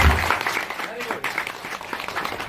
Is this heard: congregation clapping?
yes